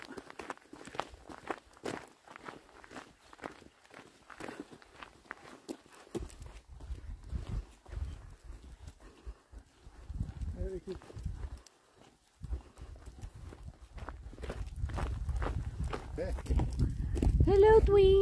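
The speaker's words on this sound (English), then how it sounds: "There's so many sheep here." Many sheep hooves clatter and shuffle along in a steady patter as a flock moves on moorland, with a low rumble building toward the end.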